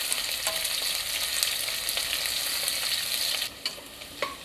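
Chopped onion frying in a pan gives a steady, fairly faint sizzle with light clicks of stirring, and the hiss dips briefly near the end. No one speaks.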